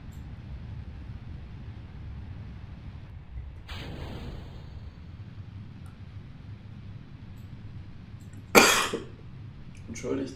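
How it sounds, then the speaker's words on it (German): A single sharp, loud cough bursts out near the end over a low, steady background rumble, with a fainter throat noise earlier. "ab und zu kommt noch so ein kleiner Husten durch"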